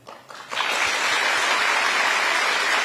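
An audience of trainee officials at a training course bursts into applause after a brief quieter moment, then sustained, even clapping fills the room, loud and close.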